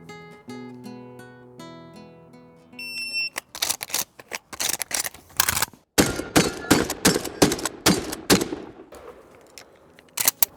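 An unloaded pump-action shotgun is dry-fired and cycled over and over, its sharp mechanical clacks and snaps coming in quick, loud, irregular bursts after a brief tonal intro.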